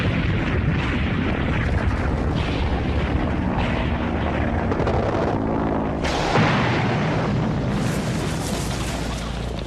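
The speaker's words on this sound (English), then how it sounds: "the Germans started sending the new V-1 flying bombs across the Channel" Heavy, rumbling blasts and a dense roar from World War II V-1 flying bomb explosions, loud and continuous with a sharper burst partway through and no talking.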